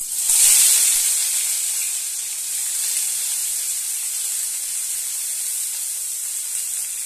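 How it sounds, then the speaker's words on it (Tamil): Onions hitting hot oil already holding cinnamon and cloves in a pan, giving a loud, bright, continuous sizzle that swells at first and then settles into a steady hiss, with nothing else audible. "பட்டை லவங்கம் போட்டாச்சு. இந்த வெங்காயம் போட்டுக்கலாம்."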